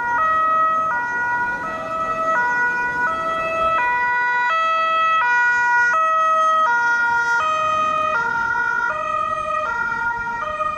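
Police vehicle siren wailing in a steady two-tone pattern as the car arrives at a staged road accident simulation, loud and continuous throughout, with no talk over it.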